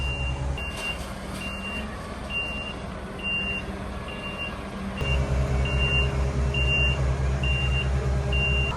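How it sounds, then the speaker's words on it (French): A concrete mixer truck backs up on a construction site, its reversing alarm beeping at a steady, regular pace over a low, rumbling diesel engine that grows louder partway through. "Il y a la toupie qui est en train de reculer"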